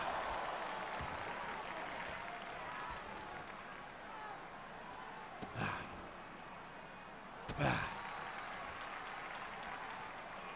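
Crowd applause in the WWE 2K25 wrestling video game, a dense, continuous roar of clapping that fills the whole clip, broken by two brief thuds, with someone talking over it.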